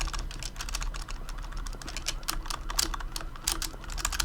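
Rapid, dense keyboard clatter as keys are spammed during a GTA IV speedrun, a continuous run of close, sharp clicks with no talk.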